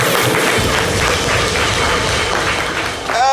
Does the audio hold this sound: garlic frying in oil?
no